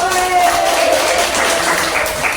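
Classmates applauding a group that answered correctly in a school lesson, a dense burst of clapping from a room full of people, loud and close, with voices mixed in.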